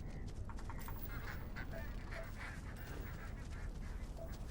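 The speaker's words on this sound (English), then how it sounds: "They're birds or something." Honking calls of birds in the Starfield video game, a few faint scattered honks over a low, steady ambient rumble with no talk.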